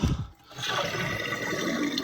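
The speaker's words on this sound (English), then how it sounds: "we will try to drain the main tank as much as possible" A toilet tank drains as it is flushed while its internals are being replaced, with water rushing and gurgling steadily and fairly close after a brief dip.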